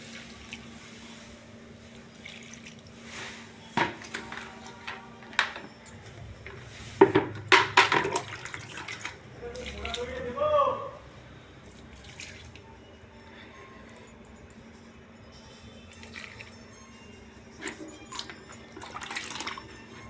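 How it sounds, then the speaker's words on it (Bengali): Potted plants on a balcony being watered, soft splashing and trickling in a short burst near the middle, with scattered knocks and handling sounds around it, faint overall. "এই যে জল দিচ্ছি, ঠিক আছে।"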